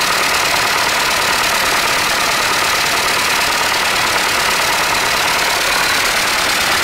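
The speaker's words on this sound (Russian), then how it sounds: "дизель мы запустили, все нормально, работает хорошо" A combine harvester's diesel engine idles just after starting, a loud, steady, rough rumble heard close up and alone with no talk.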